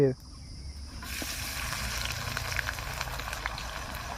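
Onions frying in oil in a pot with chicken outdoors in a field give a soft, steady sizzle and crackle after a brief clatter at the start; voices talk faintly nearby.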